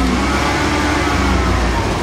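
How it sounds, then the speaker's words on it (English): A vehicle engine runs steadily right after starting, a continuous close mechanical rumble that stays level throughout with no pauses. "Now when we start this vehicle"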